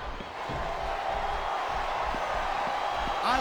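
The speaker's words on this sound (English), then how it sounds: "I love hearing the crowd come alive" A large crowd roars and cheers steadily in the wrestling video game WWE SmackDown! vs. Raw 2007, a dense wash of noise with scattered thumps and a sharp whoop near the end.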